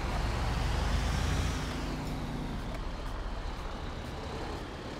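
A commercial truck in GTA 5 gives a steady, loud, low engine rumble that runs throughout and eases slightly after the first second and a half, with no talk over it.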